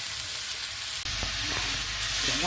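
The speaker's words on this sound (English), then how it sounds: "Starting to get a nice sear on here now." Sirloin steak sears in a hot frying pan with a steady, close sizzle and light crackle throughout, a brief dip midway as the meat shifts, with no talking.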